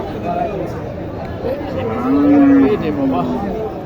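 At a cattle market, a cow gives one drawn-out, close moo partway through, with voices and general crowd chatter underneath.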